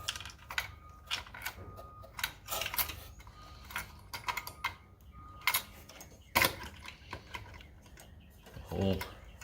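A CPU heatsink latch on an AMD socket being undone and the cooler lifted out: a series of close plastic and metal clicks and taps at an uneven rhythm, a few sharper snaps, with brief quiet talk in between.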